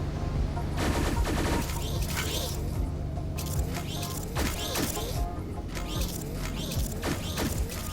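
Factory machinery in the puzzle game Infinifactory welding blocks into stacks of three, a loud, dense clatter of mechanical bangs, bursts and creaks repeating in rapid rhythmic waves, with no speech.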